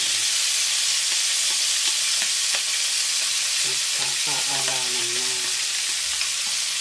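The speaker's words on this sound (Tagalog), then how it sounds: "Kasi stir fry nga ito." Vegetables with broccoli stir-frying in hot oil in a pan, a loud continuous sizzle with scraping stirs, close up, while a voice speaks briefly over it.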